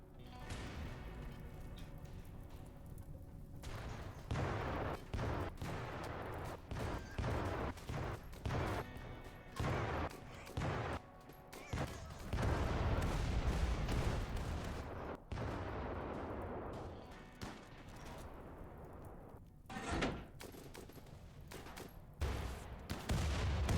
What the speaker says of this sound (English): Ooh, autocannons